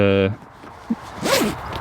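Zipper on a Fox Flatliner bedchair sleeping bag, one short close rasping pull near the end, with a brief beep before it and a soft thump in between.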